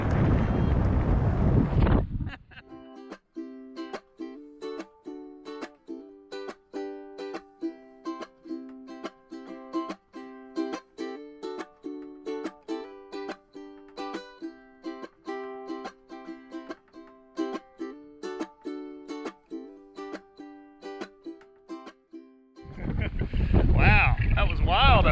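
Steady wind buffeting a microphone aboard a cruising sailboat at anchor off St Anne, Martinique, with a rhythmic creaking or rattling pattern throughout; voices speak briefly at the start and end.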